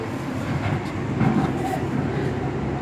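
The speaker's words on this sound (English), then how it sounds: "And now we're back on this train." Riding aboard a Metro Gold Line light rail train, a steady low rumble of wheels and car body fills the cabin, with soft rhythmic knocks and no talking.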